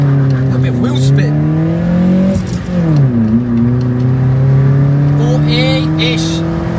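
A Vauxhall Corsa engine revs hard from a standstill, its pitch climbing through several gears with short dips at each shift. The drone is loud and close, heard from inside the car.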